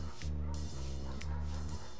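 Dogs bark in the Family Guy video game, yappy barks and yips over a droning low game soundtrack, fairly faint in the mix.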